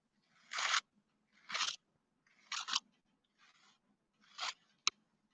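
Clay is scraped off a card in five short, close scratchy strokes separated by brief pauses, ending with a sharp click, no talk.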